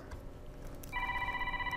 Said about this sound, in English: Oh, shoot, I forgot to turn my phone off.